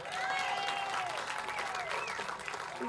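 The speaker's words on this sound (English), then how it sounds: "give yourselves a round of applause" A rally crowd applauds itself, steady clapping with some whoops and cheering voices rising over it throughout.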